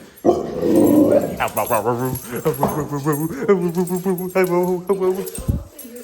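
A 7-month-old puppy barks and yelps excitedly nearby, a rapid string of high, whiny yips and barks.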